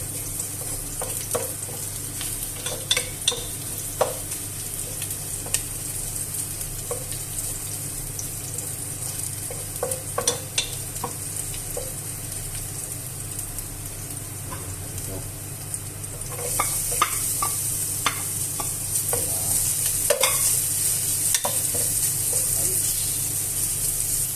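Fried rice being stir-fried in a pan, a continuous sizzle with irregular scraping and clattering stirs from a utensil, close and fairly quiet, brief faint voices in places.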